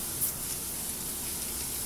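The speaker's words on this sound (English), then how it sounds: "So I'm going to be spraying like crazy." A spray bottle mists the face with a steady, close hiss that lasts for a couple of seconds without a break.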